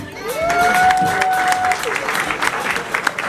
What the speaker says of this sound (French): Sous vos applaudissements, mesdames et messieurs, Gaëla Ferretti.